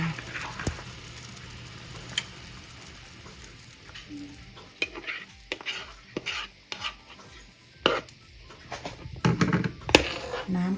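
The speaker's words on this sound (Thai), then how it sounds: "กะทิ 5 ช้อนโต๊ะนะคะช้อนนี่เลย เทลงไป" Coconut milk poured into a pot of Thai red curry with jackfruit and pork bones, heard as stirring and simmering sizzle with clinks of a spoon against the pot, bursts of scraping and clatter over a steady low bubbling.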